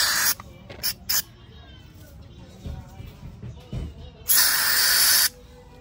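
Aerosol spray hisses into a part of a Rusi Macho 175 motorcycle that has sat unused for months. The spray comes in several short bursts, then one long, loud burst, close by, with someone talking between them.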